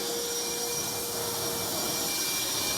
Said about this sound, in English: Let's get another vacuum in here.